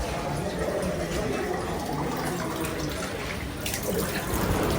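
Steady rushing water runs continuously and fairly loud at a temple site near Mangalore, a broad splashing wash with faint voices in the background.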